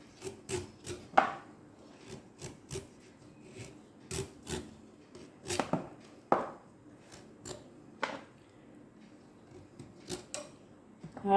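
A knife slices a vegetable into thin pieces on a board for fritters, giving a series of sharp, close, irregularly spaced cuts and taps with quiet pauses between them.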